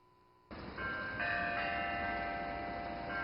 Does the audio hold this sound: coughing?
no